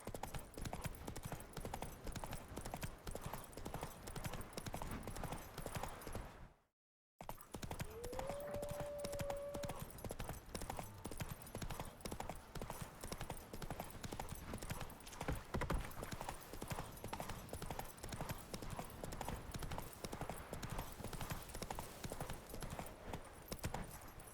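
Roach, a horse in The Witcher 3, trots with a steady clip-clop of hooves that runs nearly throughout, broken by a brief silent gap and one short whinny-like tone.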